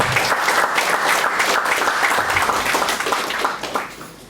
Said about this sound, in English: Let's all give a big round of applause to her